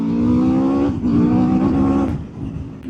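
An Aprilia RSV4 1100 Factory motorcycle engine revs loudly and close by, rising and falling in pitch in two sustained pulls.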